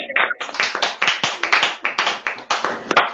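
One person clapping their hands alone, a series of sharp close claps in an uneven rhythm with short pauses between bursts.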